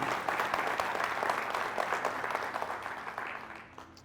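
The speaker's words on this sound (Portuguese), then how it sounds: "Você pode aplaudir ao Senhor?" A church congregation applauds, a soft, sustained patter of many hands, fairly distant and even, tapering off over four seconds.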